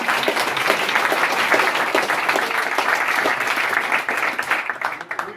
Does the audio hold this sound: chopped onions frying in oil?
no